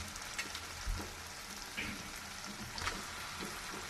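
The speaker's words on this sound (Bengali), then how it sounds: "বাঁধাকপিগুলো আমি দিয়ে দিচ্ছি" Cabbage goes into a hot pan for frying with fish head, giving a quiet, steady sizzle with occasional soft stirring clinks and crackles.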